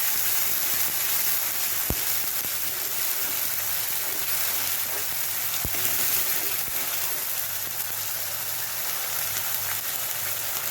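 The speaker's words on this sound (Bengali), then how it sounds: "এবার মশলাটা ভালো করে কষিয়ে নেব।" A masala paste with turmeric, salt and sugar sizzles steadily in a hot pan, a loud continuous crackling fry with a couple of sharp clicks of stirring, no voices over it.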